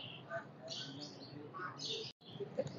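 Pigeons for sale at a bird market in Burewala, including a Thrill Back breeder pair, with chirps and soft coos scattered through a busy, noisy background and some voices nearby.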